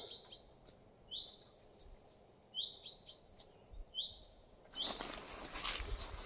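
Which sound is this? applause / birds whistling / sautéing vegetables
birds whistling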